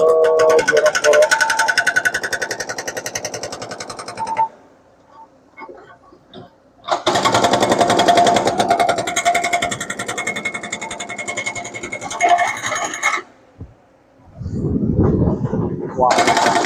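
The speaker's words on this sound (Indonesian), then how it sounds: "pembobokan di bagian dasar gorong-gorong teman-teman ya, untuk tembus ke gorong-gorong" A pneumatic breaker chisels through the concrete base of a culvert in loud, sustained bursts of rapid hammering, pausing twice between runs, with a low blast of air at the end.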